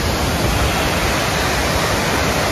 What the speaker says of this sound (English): The Trevi Fountain.